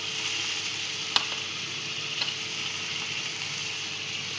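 Tomato, carrot, capsicum and onion fry in a hot pan with a steady, close sizzle, broken by a couple of brief clicks as the vegetables are moved around.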